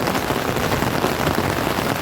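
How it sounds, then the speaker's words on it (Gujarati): Heavy monsoon rain pours in Surat, a dense, loud, continuous wash of drops striking surfaces close by, with no break throughout. "તમને બતાવી કેટલો વરસાદ આવે છે"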